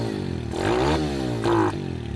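A modified Kawasaki KLX110 pit bike engine runs close by, with a rough idle that rises into two short revs, each falling away, and no talking.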